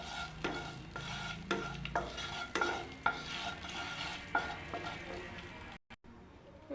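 Whole cumin, dried red chillies and bay leaf frying in hot oil, a close continuous sizzle with frequent spoon scrapes and stirring clatter against the pan.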